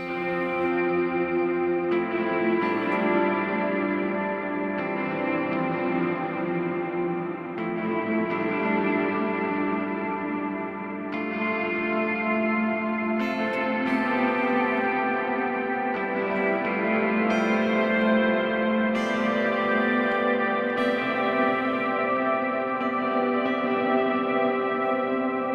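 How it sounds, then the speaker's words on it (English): Ambient electric guitar drenched in a big reverb and long delay with many repeats, sustained chords and swelling notes blurring into a continuous shimmering wash, loud and steady with no talking. "I've gotten my reverb over here,"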